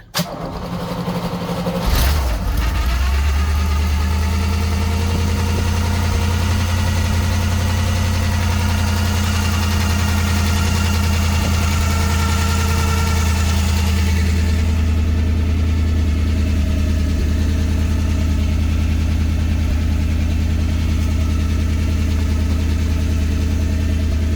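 An old car engine, left sitting overnight, cranks and catches, then settles into a steady, loud idle with a low, even rumble that continues unchanged.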